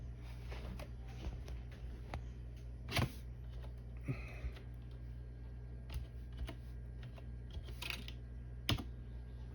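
Fingers type on a computer keyboard in a quiet room, with soft, irregular key clicks and a few louder taps close by over a steady low hum from a Gateway shop computer.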